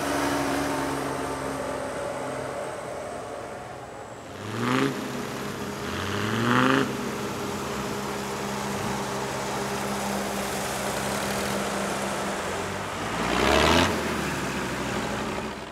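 Tractors rolling past in a tractor parade at Målilla Traktor Power Weekend in Sweden, with a steady engine drone and a few louder revving swells as individual machines pass close by.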